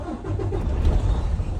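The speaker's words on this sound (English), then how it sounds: "I'm turning the truck on and build up the build up the air pressure to the governor cutout rate" A truck engine cranks and catches, a low rumbling start that settles into a steady idle, close and fairly loud.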